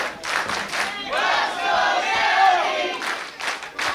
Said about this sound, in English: You hear that cheering for you?